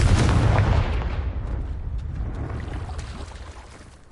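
A Confringo blasting spell in Hogwarts Legacy goes off as a loud, close boom that fades slowly into a long rumbling decay over several seconds, with no talking.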